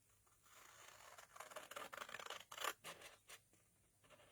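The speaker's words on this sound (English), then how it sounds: "I'm going to use my big scissors for this." Large craft scissors cut through paper while a stamped card is being made, giving a quiet run of scratchy snips and slicing strokes that builds to a few sharper cuts near the end.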